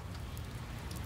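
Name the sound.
rain falling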